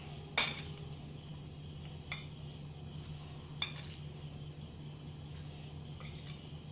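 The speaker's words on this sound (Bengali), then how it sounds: "এগুলো সব দেওয়ার পরে ভালো করে কিন্তু মিক্স করে নিতে হবে এইভাবে" A spoon stirs a vegetable momo filling with soy sauce in a bowl, with three or four sharp, isolated clinks against the dish over a quiet background.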